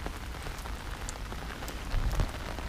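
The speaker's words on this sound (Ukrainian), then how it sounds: "прийшла злива." Steady heavy rain pours down at Blue Lake in Kyiv's Vynohradar district, a dense continuous hiss of drops hitting the ground with a few louder splashes.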